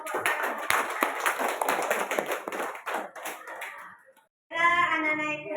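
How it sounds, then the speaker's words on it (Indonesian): A school class applauds a student group in a classroom with a burst of dense, lively clapping for about four seconds that thins out, then a short silence before a voice speaks. "Kita kasih aplaus dulu untuk kelompok 1."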